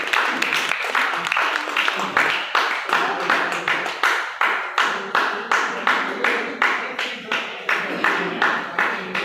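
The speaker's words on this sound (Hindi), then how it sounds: "बहुत जोरदार तालियों से इसका" An audience claps for the first prize winner at a youth parliament event at a workers' college, with a long rhythmic, close burst of fairly even, steady handclaps continuing throughout.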